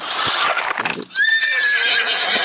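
Horse neighing in the Roblox video game: a loud, shrill, wavering whinny follows a burst of clip-clopping hooves and other game noise, close and without talk.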